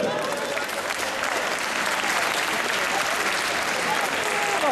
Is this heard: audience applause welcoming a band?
yes